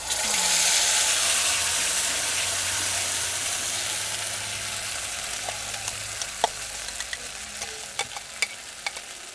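Spice paste fries lightly in mustard oil for a Bangon fish methi malai, a soft steady sizzle with sharp scraping clicks of a spoon stirring the pan growing more frequent toward the end.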